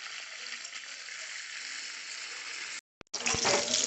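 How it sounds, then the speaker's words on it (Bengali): Cauliflower pieces frying in hot mustard oil in a kadai, giving a steady bright hiss that cuts out briefly and then returns louder. "ফুলকপিগুলো একটু লাল করে ভেজে নিচ্ছি"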